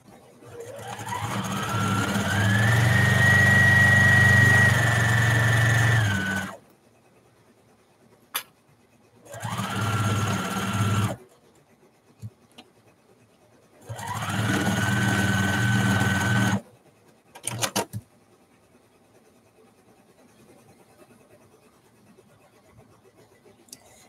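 A domestic sewing machine runs in three bursts. The first is long and rises in speed, and two shorter runs follow. Quiet pauses and small clicks sit between the bursts, and the machine is heard close up with no talking.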